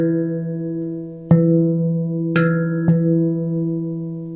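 Handpan playing a sustained low ding with ringing overtones, broken by three sharp accented strikes, the second brightest, each followed by more resonant ringing, close and clear with no voices.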